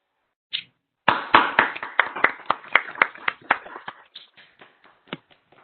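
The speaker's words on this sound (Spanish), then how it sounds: "les pido activen sus micrófonos y le regalen un fuerte aplauso para ella" Clapping comes through participants' microphones in an online session: one early clap, then a flurry of uneven, overlapping claps that gradually thin out and fade, close and somewhat dry.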